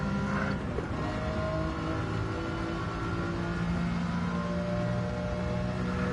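BMW E46 racing car engine in Gran Turismo 7 during a rainy race, a steady faint drone with a long sustained whine, rising and falling gently throughout, with no talking.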